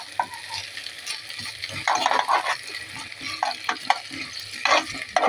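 Rice with asafoetida roasts and gets stirred in a pan for khichdi, giving a soft steady sizzle broken by repeated scraping strokes of a spoon against the pan.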